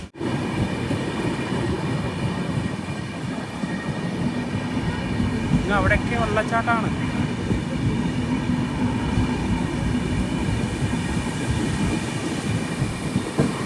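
The Konark Express rolls from Mumbai toward Pune during the monsoon rains, a loud, continuous rumble of wheels and carriage noise heard from on board, with a brief squealing screech midway and someone talking over it.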